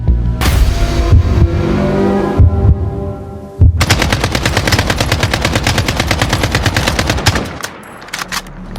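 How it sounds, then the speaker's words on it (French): AK-47 assault rifle bursts firing inside a warehouse, loud rapid repeating reports over a heavy throbbing hum, a long sustained volley following an earlier rumbling stretch, no voices. "Les rafales d'AK-47 hurlèrent dans l'entrepôt."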